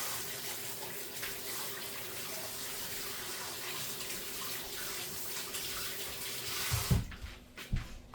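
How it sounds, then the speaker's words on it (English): Tap water runs steadily into a sink as hands are washed in a home kitchen, a continuous close splashing gush that cuts off near the end, followed by a few soft knocks. "Let me wash my hands first."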